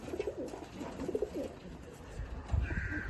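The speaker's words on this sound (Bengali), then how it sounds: "পায়রা দুটো কোয়ালিটি দেখো তোমরা" Loft pigeons in Chinsurah, Hooghly coo in several low rolling phrases close by, with a brief higher note and some handling noise toward the end.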